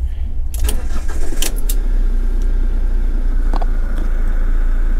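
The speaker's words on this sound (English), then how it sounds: "Right, so I'll just start my engine up." An Adria Twin camper van engine cranks briefly and catches, then settles into a loud, steady idle close by.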